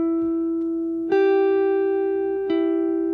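Plain dry electric guitar with no effects, a few cleanly plucked single notes that ring and sustain evenly, three distinct attacks over a few seconds, close and clear with no talking.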